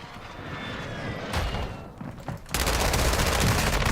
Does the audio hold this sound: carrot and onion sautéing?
no